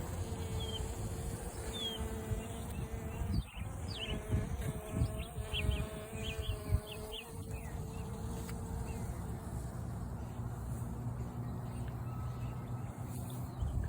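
Honeybees buzz around a newly installed nuc hive outdoors, a low, steady hum under faint background noise with some brief louder passes, and a voice speaks at times.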